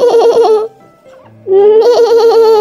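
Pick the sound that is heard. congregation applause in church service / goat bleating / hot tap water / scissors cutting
goat bleating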